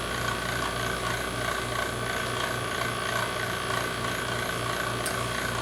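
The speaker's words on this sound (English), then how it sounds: "which I'm going to turn on the vacuum pump." A vacuum pump runs attached to a vacuum chamber, giving a steady, continuous mechanical hum with a regular pulsing throb, close and unbroken throughout.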